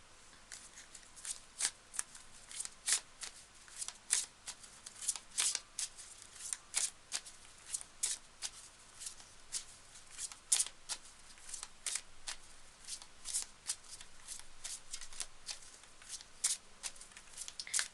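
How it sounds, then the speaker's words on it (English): Tarot cards are shuffled and pulled from the deck, a steady run of crisp riffling snaps and slaps that repeat in quick, uneven bursts for the whole stretch, close and fairly quiet with no talking. "We pull some more cards as usual."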